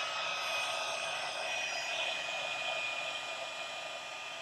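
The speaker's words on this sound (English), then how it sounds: "So I'm going to hit this with the heat gun." Heat gun blowing hot air over the distressed edges of a paper card, a steady airy roar that holds even and unbroken from start to finish with no talking.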